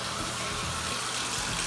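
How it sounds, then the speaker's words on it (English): A bathtub shower runs steadily, water pouring from an overhead shower head onto the tub in a continuous close hiss with no break. "So let me turn on the shower here."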